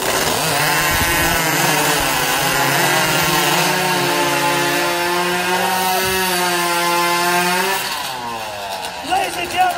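Several hot saw racing chainsaws roar together as they cut through timber at a competition, a loud sustained whine with shifting engine pitch that drops away near the end of the cut. Crowd noise and voices sit under the engines.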